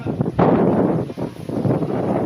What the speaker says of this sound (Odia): ଦେଖନ୍ତୁ ଦେଖନ୍ତୁ ଆଜ୍ଞା କେମିତି କ'ଣ ପବନ ହେଉଛି।